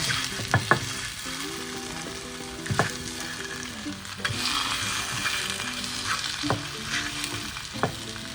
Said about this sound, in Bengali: এখানে একটু সসেজ ভাজা করছি